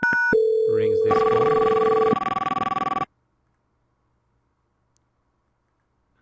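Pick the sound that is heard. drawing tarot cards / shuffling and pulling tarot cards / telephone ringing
telephone ringing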